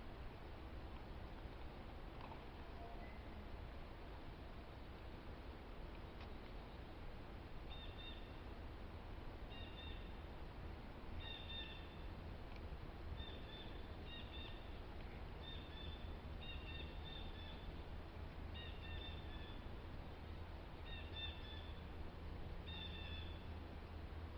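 Faint, distant bird calls repeat in short chirping bursts over a steady outdoor hiss, scattered through the second half.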